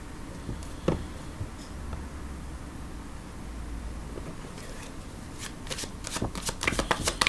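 Tarot cards shuffled by hand at close range, a soft continuous riffling and rustling that grows into quick flicking snaps toward the end, with no talk.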